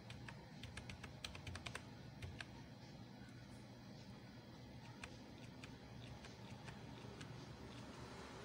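Keyboard keys clatter as a waste fee list gets typed, quick scattered clicks in short bursts over a faint steady background hum, fairly quiet and close.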